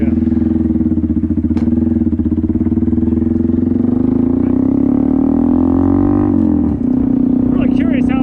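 A Honda Grom motorcycle with a loud aftermarket exhaust idles and revs nearby, a deep throbbing drone that rises in pitch, then drops sharply before settling again.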